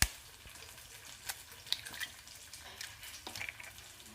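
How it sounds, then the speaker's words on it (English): Eggs being whisked in a bowl while cooking keto noodles, with soft rhythmic tapping and scraping strokes, close and fairly quiet over a faint steady background hiss. "So at this point, I'm going to whisk my eggs."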